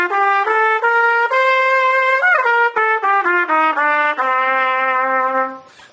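A solo trumpet plays a one-octave D Dorian scale, with clear separate notes climbing and then descending before ending on a long held low note, bright and close.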